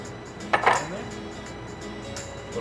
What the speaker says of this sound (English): Clove of garlic, going back to the press.